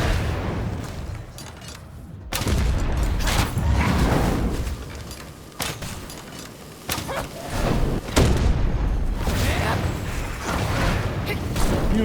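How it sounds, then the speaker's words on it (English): Sticky bombs detonate repeatedly during V Rising combat, a series of heavy thuds and booming blasts spread across the stretch, several close and loud, mixed with game noise and intermittent talk. "Oh, he really spams the sticky bomb now."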